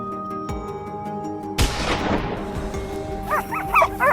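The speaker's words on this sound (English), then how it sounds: "Thanks to the relentless barking of the hounds, we were able to easily locate the position of the wild boars." Hunting hounds bark during a wild boar hunt at a forest edge, a few distant yelps at first, then a louder barking burst with more yaps close to the end, over a low steady hum.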